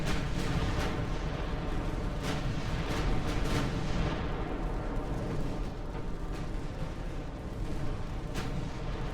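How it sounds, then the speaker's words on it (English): Warship secondary guns firing in the naval game Ultimate Admiral: Dreadnoughts, a dense barrage of booming shots over a constant heavy rumble, with sharp, louder reports bursting out every second or so. "Give those secondaries some aggressive fire."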